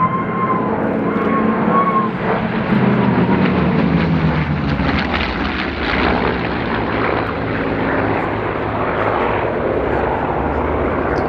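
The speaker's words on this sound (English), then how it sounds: "Expertly piloting the P-51 is Eskil Amdor" A P-51 Mustang warbird flies a display routine at the Sywell airshow, its engine a steady, loud roar with shifting intensity across the whole stretch, carrying on continuously without pause.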